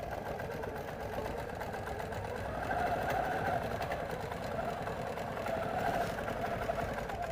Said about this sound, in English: then I'm going to sew my pocket down.